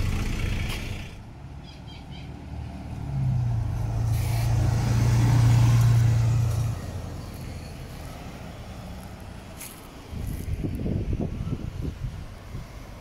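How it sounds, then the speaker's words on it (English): An SBST service 135 bus in Singapore, bound for Kembangan MRT Station, rumbles past on the road. Its engine swells to a loud, close peak mid-pass, then fades as wind buffets the microphone. "let's go further up along the road and wait for this bus to pass by."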